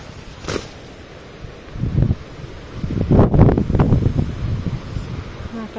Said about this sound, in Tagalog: Kasi sobrang lakas ng hangin.